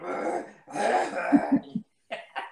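A man with a long-lasting cough coughs several times in short, rough bursts, close to the microphone, with brief pauses between the coughs and no talking.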